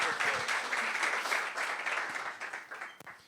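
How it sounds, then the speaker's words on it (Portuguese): An audience at a real estate technology talk gives a brief round of applause, moderately loud at first and then thinning out into a few scattered claps before fading. "Palmas futuras aqui."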